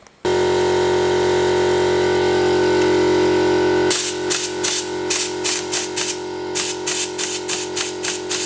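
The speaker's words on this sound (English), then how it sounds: "I'll chuck the rattle gun on and see, but as you can see, the shaft spins with it" A pneumatic impact wrench runs on the strut nut of a VW Super Beetle while the shaft spins with it. A loud, steady air-motor whine lasts about four seconds, then gives way to rapid, repeated hammering bursts.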